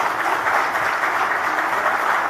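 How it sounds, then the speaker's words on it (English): Audience at a national political conclave clapping for the Assam chief minister, a steady dense burst of applause filling the room briefly. "Let's have a proper round of applause for Himanta Biswa Sarma"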